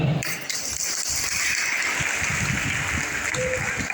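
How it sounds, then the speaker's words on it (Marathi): A crowd of women in an audience at a women's honouring ceremony claps together, a dense, steady wash of applause that stays loud and continuous throughout. "जर तुम्हाला असं वाटत असेल की पुरुषांपेक्षा जास्त टाळ्या तुमच्या वाजतात, तर टाळ्या वाजवून दाखवा."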